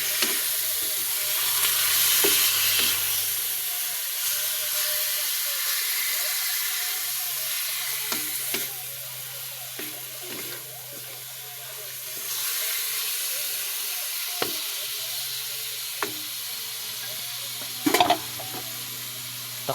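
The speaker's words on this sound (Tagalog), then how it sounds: "Lagyan natin ng tubig." Water poured into a hot cooking pan sizzles and hisses in a steady steam-laden wash, with brief clinks and stirring sounds scattered through it, close and fairly loud, no talking.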